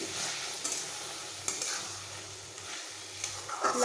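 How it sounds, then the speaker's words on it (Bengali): Bottle gourd cooked with small fish is stir-fried in a pan, giving a steady close sizzle broken by occasional scraping strokes of a spatula. "এইবার আমি বেশ ভালোভাবে কষিয়ে নিচ্ছি।"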